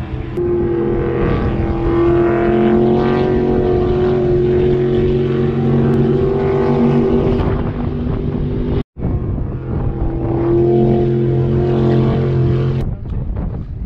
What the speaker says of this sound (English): watch these boats come down around this back corner